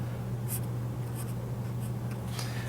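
A math equation being written out by hand, a steady faint scratching of pen or pencil on paper, with a few brief louder strokes and taps and no talking.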